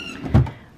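A single short thud of an IKEA Alex drawer sliding shut, close and fairly loud, with a soft rumble before the knock and a quick fade after.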